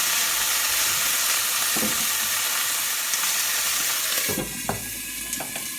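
Pork frying in a pan gives a dense, continuous sizzle and crackle close by, with a few utensil taps near the end as the hiss drops slightly in loudness.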